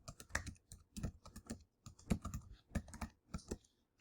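A password is typed on a computer keyboard under Ubuntu Linux, making brisk, close clusters of key clicks in uneven rhythm that pause briefly between groups, with no talking.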